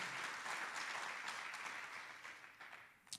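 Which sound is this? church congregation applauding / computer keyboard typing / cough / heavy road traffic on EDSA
church congregation applauding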